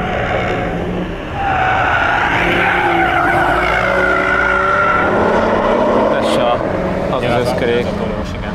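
A car races fast through corners and a chicane, engine buzzing and tires squealing as it sweeps past, loud and sustained with a brief lull near the start.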